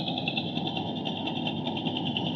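A trawler boat's engine runs steadily on a village river, a continuous droning chug with a fast regular pulse, moderately close and without a break.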